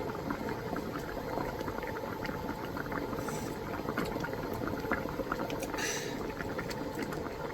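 Soup boiling hard in a pot, a dense, steady bubbling and rolling churn heard up close, loud and unbroken throughout with no talk.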